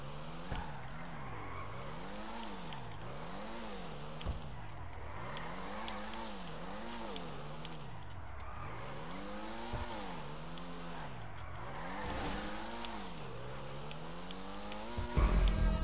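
Cars racing in a GTA Online video game race on a custom Tokyo Drift course, with engines revving up and down in a steady repeating rhythm, brief tire skids, and a sharp burst near the end.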